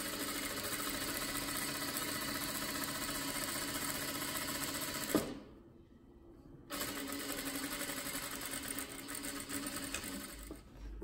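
A sewing machine stitches the back seam of a child's dress skirt, a fast steady mechanical whir close up that stops for about a second midway, then resumes running continuously.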